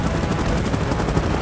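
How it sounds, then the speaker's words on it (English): A helicopter in a mobile action game, a loud, steady rotor thrum with a pulsing beat throughout, close and unbroken. "Chopper in position."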